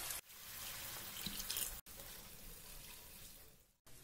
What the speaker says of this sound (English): Add in a little water.